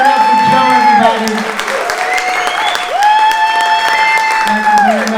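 A comedy club audience applauds at the end of a set, a steady wash of clapping with some cheering under a voice and tonal background sound.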